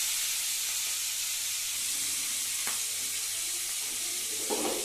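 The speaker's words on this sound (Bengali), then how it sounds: "এবার আমরা চিংড়ি মাছটা নুন হলুদ দিয়ে মাখা ভেজে নেব।" Salt-and-turmeric-coated shrimp fry in hot oil, giving a steady broad sizzle and hiss with a faint clink partway through, no talking.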